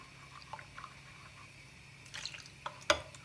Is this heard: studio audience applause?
no